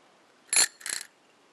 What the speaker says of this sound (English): I got a Canadian bell. It has two modes.